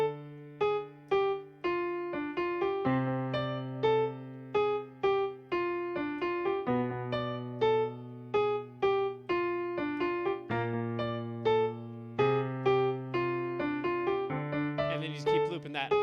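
Solo piano plays a melody with both hands, bright repeated right-hand notes over a shifting low bass line, steady and close throughout, with no talking.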